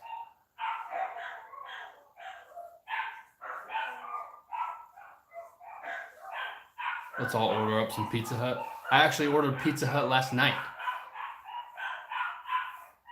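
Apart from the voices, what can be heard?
dogs barking outside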